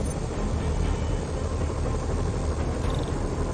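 Helicopters hovering over the city in Marvel's Spider-Man, a steady droning rotor hum with a low rumbling texture that holds at an even level throughout, with no voices.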